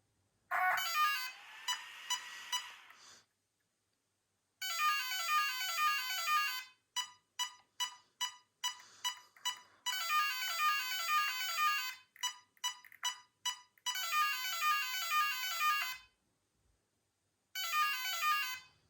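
The master ESC of a high-powered carbon fiber RC car with four motors powers on and calibrates, giving a series of electronic tones: long tone sequences broken by quick rhythmic beeps, with short silences between them.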